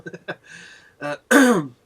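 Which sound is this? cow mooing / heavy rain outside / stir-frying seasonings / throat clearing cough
throat clearing cough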